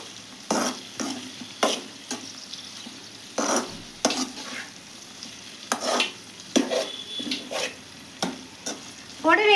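Curry leaves, a single sprig, crackle and sizzle in hot oil in a pan of okra fry, with repeated loud scraping stirs and bursts of spatter close by.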